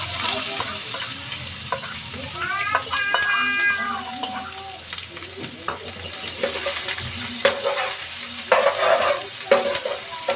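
Onions and green onions frying in hot oil with garam masala for a palva fish curry give a steady sizzle with stirring and scraping, and a cat meows loudly partway through.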